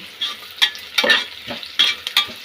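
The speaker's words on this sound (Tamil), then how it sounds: "புதினா கபாப் இது வந்து ஃப்ரை ஆகிட்டு இருக்குதுங்க" Mint kebabs frying in oil, close and fairly loud: a soft sizzle broken by several quick scraping stirs and crackling bursts at irregular intervals.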